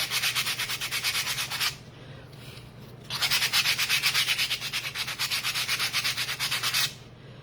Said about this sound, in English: So I'm just gonna like do a little sanding.